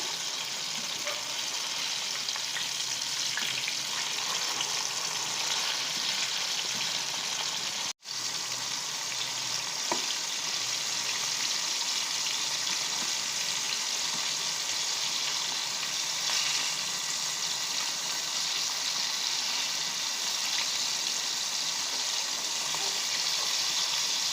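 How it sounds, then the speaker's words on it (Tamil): Sweet apple slices fry in hot oil with a steady, close sizzle and gentle bubbling that runs throughout, broken once by a brief dropout. "நம்மளோட ஆப்பிள் எல்லாம் நல்லா ஃப்ரை ஆகிடுச்சு பாருங்கள்"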